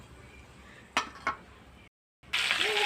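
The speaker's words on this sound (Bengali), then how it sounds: "সেই আতা পাতা ভাজার তেলেই আমি হচ্ছে গোটা জিরে, 5 ফোড়ন, শুকনো লঙ্কা, তেজপাতা দিয়ে দিলাম।" Whole cumin, five-spice seeds, dried red chili and bay leaf go into hot oil in a pan, with a couple of sharp clinks, a brief silence, then a sudden loud, close sizzle.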